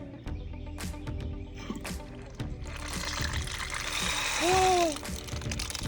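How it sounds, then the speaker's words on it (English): Water starts running again from a repaired household fixture after a leak fix, a soft hiss and trickle building up behind clicks and handling noises, with a brief squeaky tone near the end. "I am going to start the water again."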